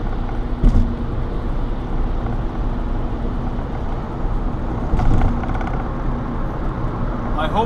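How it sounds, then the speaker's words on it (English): Light road traffic rumbles along continuously, with a vehicle swishing past close by near the start and another louder pass a few seconds later, low steady road noise in between. "I hope this traffic stays light like it is right now"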